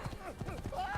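Horse hooves clip-clop along a road in the Assassin's Creed video game, a steady near rhythm of hoofbeats mixed with game sounds and a brief vocal sound.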